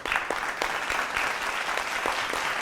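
An audience breaks into steady, sustained applause at a televised music show, many hands clapping together at a fairly even level throughout, with no talk.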